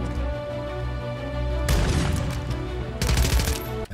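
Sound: shotgun gunfire in Warzone video game

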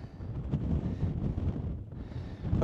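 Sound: strong wind on a mountain top

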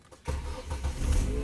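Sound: Chery Face car engine starting after fuel pump repair

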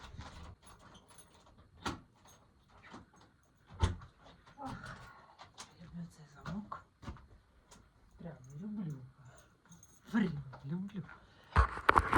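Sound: small cupboard doors being closed

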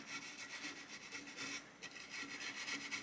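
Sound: scrubbing a rifle muzzle brake to remove carbon

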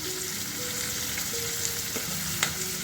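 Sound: tomatoes, green chilies and capsicum frying on low flame

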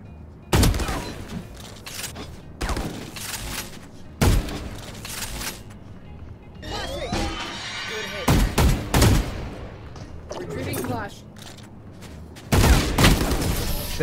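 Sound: gunshots in video game Valorant

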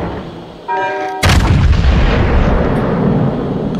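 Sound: warship guns firing at the Conqueror in video game World of Warships

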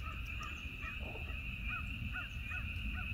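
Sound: crows cawing at sunset

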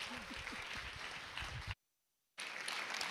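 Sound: applause welcoming a speaker

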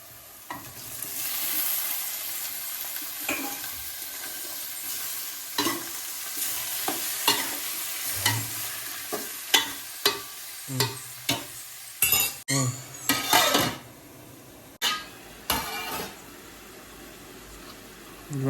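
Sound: frying onions and tomatoes in a pan for dried fish curry

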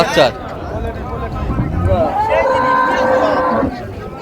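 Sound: dairy cow at cattle market

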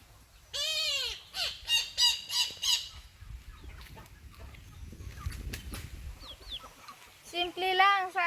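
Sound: bird squawking while fighting with a chicken

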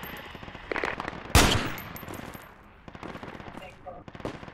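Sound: gunfire in Project Reality video game

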